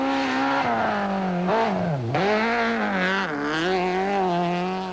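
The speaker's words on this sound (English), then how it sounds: "Blackman was well hooked up in the Bosch-sponsored BMW, setting his best time of the rally on stage 15" A Bosch-sponsored BMW rally car on a Tour Natal 2004 stage gives a loud, continuous engine note that rises and falls as the driver works through the gears, with a dip and recovery midway and no voices.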